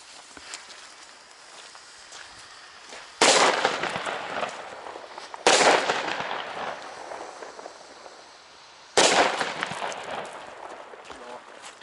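Di Blasio Elio Cobra 6 firecrackers for New Year's Eve, three sharp, loud bangs spaced a few seconds apart, each trailing off into crackle and rumble over steady outdoor background noise.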